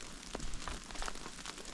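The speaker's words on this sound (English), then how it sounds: "And we got the hail starting back up again." Hail falls during a thunderstorm on Yosemite's Cathedral Lake Trail, a faint, steady patter of pellets striking nearby surfaces, with a few sharper individual hits standing out.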